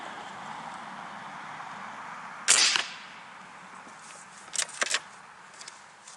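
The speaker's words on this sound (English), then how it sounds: "I'm going to fire off 3 shots in a row." Shots from an Umarex Airjavelin air rifle: one sharp crack, then after a pause a quick cluster of two sharp reports close together, each short and loud over a quiet background.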